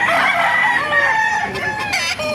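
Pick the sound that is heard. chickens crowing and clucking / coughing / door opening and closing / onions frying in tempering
chickens crowing and clucking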